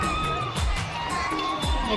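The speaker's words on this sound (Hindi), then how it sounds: "देख सकते हो यहाँ कितना भीड़ हवे यहाँ।" A crowd gathered in a village square for a puja during the Kamarchhath (Halshashthi) festival, a dense, close murmur of many voices and movement with a couple of heavier thuds.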